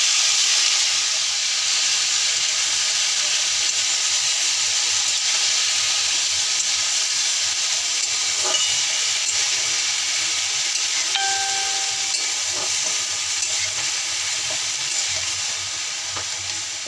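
Cut potatoes and yardlong beans frying in oil spiced with a tempering and green chillies, a loud, close, continuous sizzle and hiss that holds steady throughout with faint stirring clicks and no voices.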